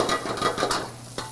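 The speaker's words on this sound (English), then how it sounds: "Pepper's gonna go in, then you're gonna saute it. Stir fry." Peppers stir-frying in oil in a pan while cooking General Tso's, a soft sizzle under quick scraping stir strokes, close and moderately quiet over a brief moment.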